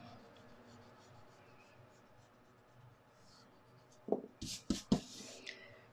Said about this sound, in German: Dann könnt ihr euch mit dem Radiergummi hier eure Bleistiftlinien wegradieren.